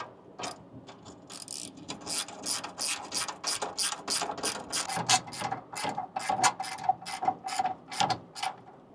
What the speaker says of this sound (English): We gotta tighten all the bolts down